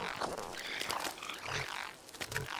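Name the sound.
frogs croaking in the video game Fallout 76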